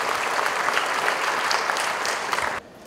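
A crowd at the opening of the Asia Africa Smart City Summit 2015 in Bandung breaks into brisk, dense clapping that stays steady for over two seconds, then cuts off sharply.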